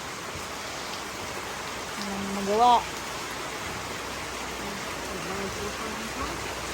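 Continuous typhoon rain hisses evenly throughout, while a person speaks briefly over it.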